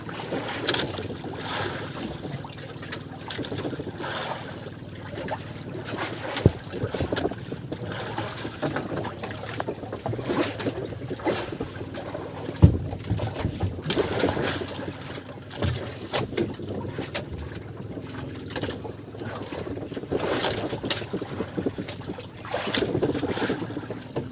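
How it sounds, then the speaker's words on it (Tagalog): A steady motor drone from a boat runs throughout, mixed with wind buffeting the microphone and occasional knocks, with no talking. "kung may naririnig kayong ingay ng makina"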